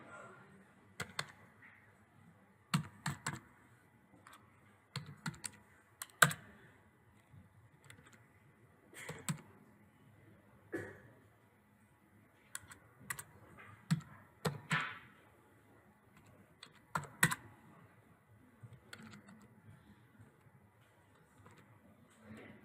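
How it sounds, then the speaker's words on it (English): Numbers are typed on a computer keyboard for an Excel spreadsheet, sharp close clicks arriving in irregular bursts and pauses throughout, with quiet room tone between. "So for now, I'm going to type in the numbers."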